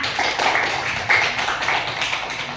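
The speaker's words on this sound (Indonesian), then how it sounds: "beri tepuk tangan untuk Citra" Pupils in a classroom give a round of applause for a classmate, steady dense clapping from many hands lasting a few seconds.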